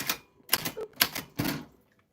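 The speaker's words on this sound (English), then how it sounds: "That's what your name sounds like on a vintage typewriter. I am really typing it." A vintage typewriter is struck in four or five sharp, close keystrokes, each a crisp clack with a metallic ring, spaced irregularly and then falling silent.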